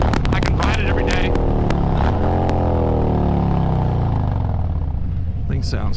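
A Harley-Davidson Road King motorcycle engine runs loud and close, its deep throbbing note swelling and easing through throttle changes as the bike cruises, with rushing wind noise throughout.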